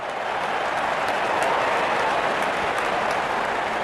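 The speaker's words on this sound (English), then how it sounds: "Wonderful 50 and the crowd applauds." A stadium crowd at a Rajasthan Royals versus Sunrisers Hyderabad cricket match applauds a batsman's fifty with a steady, dense wash of clapping and crowd noise that holds evenly for a few seconds.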